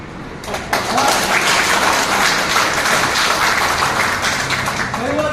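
Audience applause at a Hindi motivational training session, a sustained wash of clapping from a crowd with brief voices and whoops mixed in, fairly loud and close.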